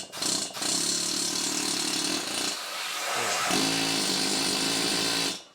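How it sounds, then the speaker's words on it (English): A pneumatic air hammer fitted with a pair of dies pounds sheet metal in a workshop, giving a steady, loud, rapid mechanical chatter that runs nearly continuously with a brief change in pitch midway. "it's an air hammer with a couple of dies on it"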